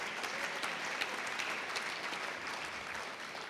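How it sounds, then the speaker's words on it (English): An audience at a Portuguese and Lusophone lecture series event applauds its sponsors with steady, dense clapping that fills the whole stretch at an even level, with no talk over it. "Give them all a round of applause."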